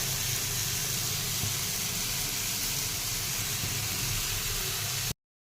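Chopped tomatoes sizzling in a pan with sautéed eggplant and potato, a steady loud hiss and crackle of frying that runs evenly throughout, then cuts off abruptly at the end.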